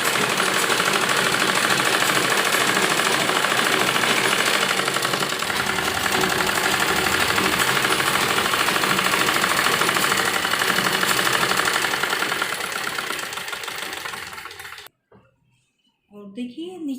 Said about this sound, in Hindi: इस तरह से करते हुए सिलाई लगाएंगे दोनों साइड के पोंचों पर